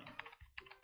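Several quick keystrokes clatter faintly on a computer keyboard in a radio studio, an irregular run of soft clicks with no talking over them.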